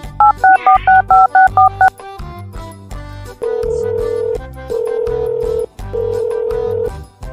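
A telephone is dialed for a call: a quick run of about nine dialing tones, followed by three long ringback tones separated by short pauses, loud and close.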